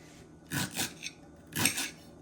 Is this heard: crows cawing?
no